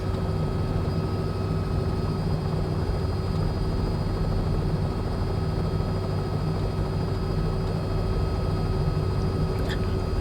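A Cowansim R66T helicopter lifting off in a flight simulator game in heavy live weather, giving a steady loud rotor and turbine drone with a constant tonal hum that runs unbroken throughout.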